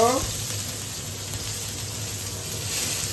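Garlic and green chilies hit hot oil with a loud, even sizzle that holds steady throughout, close to the pan, with a faint steady hum beneath.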